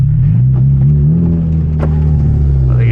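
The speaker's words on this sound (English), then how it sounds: "they're gonna hear me rev my car through the drive-through" A manual Genesis Coupe with an aftermarket exhaust idles loud and close, its engine note rising and falling in a short rev with a deep droning hum throughout.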